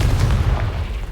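A Confringo blast spell in Hogwarts Legacy erupts as a loud, booming explosion with heavy low rumble, sustained and dense throughout, with no talking.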